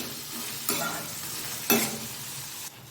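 Cut potatoes go into well-heated oil for a potato fry, and two scraping stirs stand out above a steady sizzle, close and moderately loud, with no talking.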